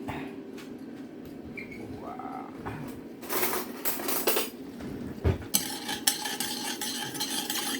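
Dishes and utensils are washed in a kitchen, with clinks and scrapes of cutlery against pots and plates, a few sharper knocks near the end, and running water hissing behind.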